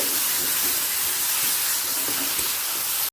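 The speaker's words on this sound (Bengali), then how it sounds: "তেলের সাথে মশলাটা ভালো করে মিশিয়ে নিচ্ছি" Onion, ginger, garlic and chili paste sizzles loudly in hot oil, a dense continuous hiss that holds steady for about three seconds before cutting off abruptly.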